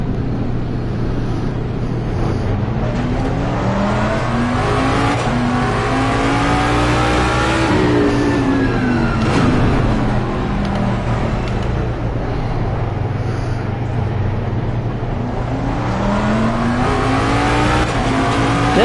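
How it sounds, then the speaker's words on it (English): Race car engine in the Assetto Corsa Competizione video game heard from the in-car view, revving hard through repeated rising gear sweeps and upshifts, loud and continuous, with brief tire squeal and no voices. "This is the in-car cam of the race car."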